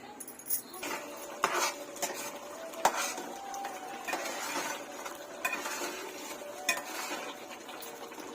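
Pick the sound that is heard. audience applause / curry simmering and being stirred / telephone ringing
curry simmering and being stirred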